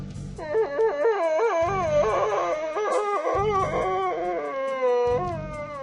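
An inhuman howl of terror rises from a dome in a science-fiction audio drama, a long, loud, wavering cry sliding up and down in pitch over several seconds, backed by repeated low rumbling pulses, with no talking.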